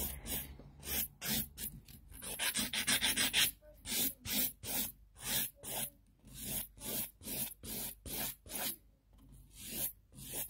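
A 180 grit file rasps across fingernails in steady, rhythmic back-and-forth strokes, close and fairly quiet, speeding up briefly before settling into an even pace.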